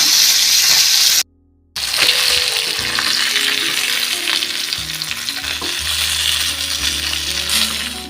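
Tilapia fish frying Kerala style in a pan, a steady close sizzle and crackle of hot oil that drops out for a moment and then resumes.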